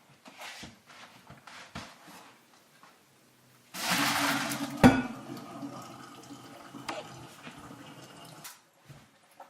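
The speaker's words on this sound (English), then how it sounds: "Now we're just going to softly pour the pasta into the sink." Cooked pasta and hot water poured from a pot into a kitchen sink make a loud rushing splash lasting several seconds, with a sharp clank midway and scattered clatter before and after.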